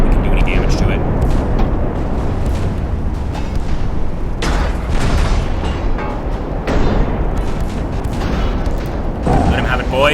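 Battleship guns fire in a naval battle in the Ultimate Admiral Dreadnoughts game, with repeated deep booms and rumbling salvos overlapping one another, loud and dense across the whole stretch.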